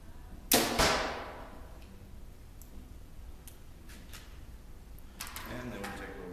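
Bow shooting arrows in an archery shoot-off with a STAN release: a sharp loud twang-and-thwack near the start, then quieter clicks, and another burst of clattering impacts toward the end.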